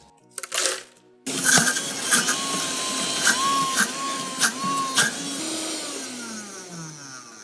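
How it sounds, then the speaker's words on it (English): Ninja and Vitamix blenders crushing ice: a brief near-silence with a few clicks, then a loud, steady motor whir that runs to the end, broken by sharp cracks and rattles of ice. "We're gonna test the ice crushing settings on each of the blenders."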